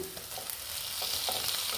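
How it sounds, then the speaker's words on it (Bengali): Tomato going into a pan of onions frying in oil, a steady sizzle with a few soft stirring clicks over a short stretch, no voices. "আমার মোটামুটি পেঁয়াজটা দেখো অনেকটাই ভাজা হয়ে গেছে। এবার আমি একটু টমেটো দিয়ে দিচ্ছি"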